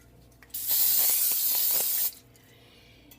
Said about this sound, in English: I spray it with Pam